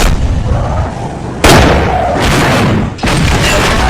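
Gunfire in a cartel action film, loud and close: a sustained blast followed by two sharp shots that each ring on with a dense, booming tail. No talk is heard.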